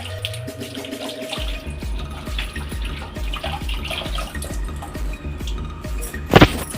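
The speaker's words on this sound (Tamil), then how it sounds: "ஒரு அஞ்சு இலை எடுத்து கழுவிக்கலாம்" Five leaves are washed in water, with a steady splashing and a rapid run of regular drips or handling noises throughout, then a brief louder splash near the end. No one speaks.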